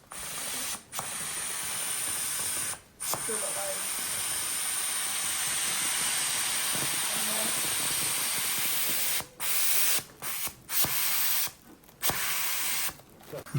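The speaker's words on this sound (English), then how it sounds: "that releases the valve, and then the helium releases" Helium gas hisses steadily out of a tank valve into a balloon, a loud continuous rushing spray broken by a few short pauses as the valve is released and pressed again.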